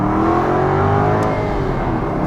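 An Aston Martin engine revs with a steady, loud, throaty drone that rises slightly in pitch, heard alone with no talking.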